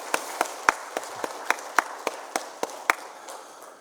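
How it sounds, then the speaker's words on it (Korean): During a Friday night healing service at a Korean church, the congregation claps in a sparse, evenly spaced rhythm, with distinct sharp claps standing out over a soft background. "우리 하나님께 영광의 박수를, 우리 새가족부에게는 격려의 박수를 한 번 더 힘차게 드리겠습니다."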